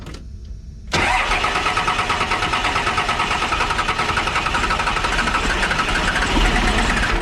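A Cummins 12-valve diesel engine freshly fitted with Power Driven Diesel 5x.016 injectors cranks and fires after a second of quiet, then settles into a loud, steady, rhythmic clattering idle up close.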